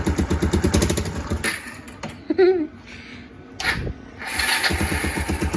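Kawasaki KLF300 Bayou 4x4 quad being fault-checked, its engine chugging and cranking, cutting out, then starting again with a close, loud, uneven putter and brief pauses between attempts.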